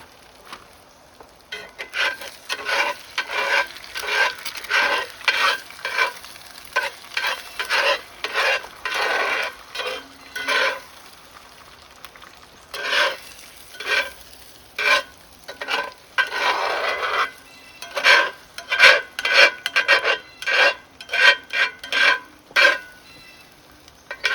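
A utensil scrapes repeatedly across a skillet, working cheesy food loose at a campsite; the rhythmic, gritty strokes come in quick bursts with short pauses, close and fairly loud, with no voices.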